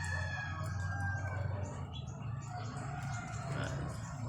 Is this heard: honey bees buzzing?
no